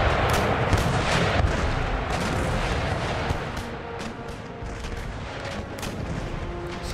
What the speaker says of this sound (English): San Julian's opening fire with their battery.